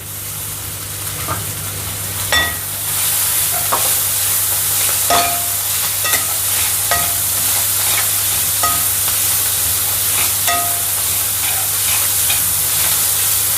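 Green peas tossed into a pan of softened onions for a wheat-flour samosa filling, frying with a steady close sizzle broken by scattered light stirring clicks.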